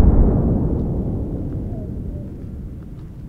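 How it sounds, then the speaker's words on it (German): A deep, distant explosion in the video game We Stay Behind rumbles and slowly fades away over a few seconds. "Explosion in der Ferne."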